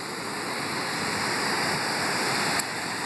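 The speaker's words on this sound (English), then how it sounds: "As you can see, it's just gushing water again, just flooding out my neighborhood again" Floodwater gushing over the Pompton Dam at Pompton Lakes, a loud, steady roaring rush of water heard close and continuous, with no talking.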